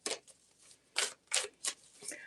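Tarot cards being shuffled, a series of crisp riffling bursts in a quick uneven rhythm, close and fairly loud, with faint room sound between them.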